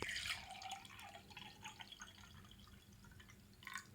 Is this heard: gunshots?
no